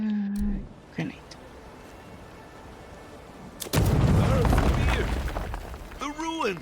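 A grenade blast in the fantasy game Avowed lands as a sudden loud, broad burst, followed by several seconds of rumbling crackle and debris, with a voice calling out briefly near the end.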